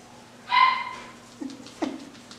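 An Eskipoo puppy gives a short high whimpering whine followed by a couple of small yips, close by and indoors, with quiet pauses between them.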